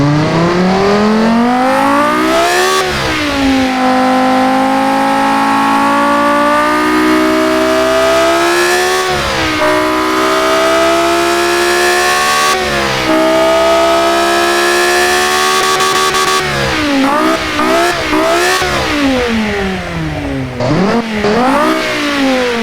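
An engine is revved hard to its maximum, a loud, screaming whine that climbs and falls in repeated sweeping surges, nearby and alone with no talking over it.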